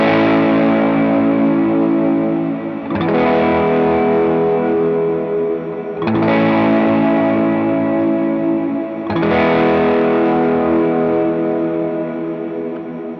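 An electric lead guitar with heavy distortion and effects plays the repeating pattern from "What A God," looping the same phrase about every three seconds, loud, dense and continuous with no talking.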